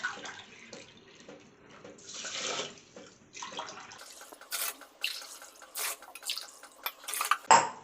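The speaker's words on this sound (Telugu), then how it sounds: "ఈ 4 గ్లాసులు వాటర్ పోసి 1 గంట నానబెట్టాలండి." Water poured from a glass onto soaking rice for mutton biryani, four glasses in all, comes as intermittent splashing pours and drips in a quiet kitchen, with a sharper clatter of a vessel near the end.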